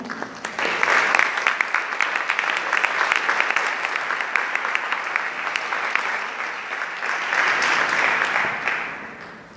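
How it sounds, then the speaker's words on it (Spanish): An audience applauds a panel at an international seminar on child benefit coverage, with dense, sustained clapping that fills the hall for nearly ten seconds, dips slightly in the middle, then swells again before fading. "Un aplauso para este panel."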